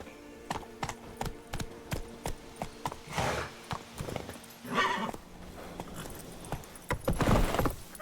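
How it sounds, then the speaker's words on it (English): Horse from The Witcher 3: Wild Hunt on PC, steady rhythmic clip-clop of hooves followed by loud neighs and whinnies, close and clear over quiet game ambience. "Whoa there, Roach. Witcher or not, you've still to bust your bum"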